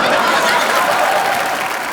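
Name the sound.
studio audience applause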